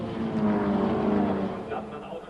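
VW Scirocco R-Cup race cars pulling away together at a race start, a loud dense drone of engines holding steady throughout with faint commentary underneath.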